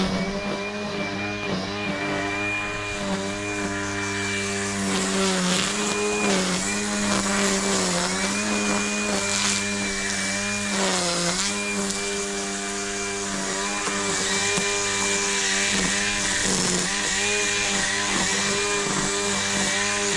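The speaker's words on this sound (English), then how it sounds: "this is my strimmer, battery powered," A battery-powered DeWalt strimmer runs steadily and loudly close by with a whining motor tone, dipping and rising in pitch as it works between raised beds on an allotment.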